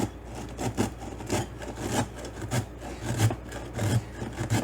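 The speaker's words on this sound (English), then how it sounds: "I'm just going to grate up my cauliflower" Cauliflower grated by hand on a grater for a keto shepherd's pie, a steady series of rhythmic rasping strokes, close and moderately loud with no talking.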